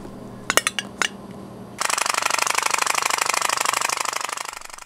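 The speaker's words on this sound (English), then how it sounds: "Even if you just blow into the pipe, it makes a noise." A small pop-pop steam boat engine, a tiny boiler with a flexible top and two long pipes, buzzes in a steady rapid rattling pulse when air is blown into its pipe, after a few sharp clinks at the start.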